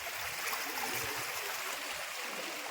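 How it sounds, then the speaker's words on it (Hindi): Fast-flowing river current at a village bathing spot in Rajasthan, a steady rushing wash of water that holds evenly throughout, fairly close, with no voices over it. "बहाव बहुत तेज है इधर इधर"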